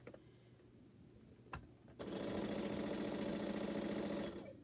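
A sewing machine stitching quilt pieces: quiet room tone at first, then a couple of clicks before the machine starts into a fast, steady mechanical whir that runs for over two seconds and winds down.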